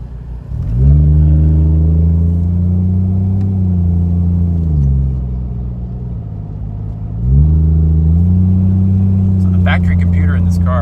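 A Fox Body car with a swapped 1JZ engine revs loudly and steadily, eases off with a brief dip in the middle, then pulls hard again, with faint crackles near the end.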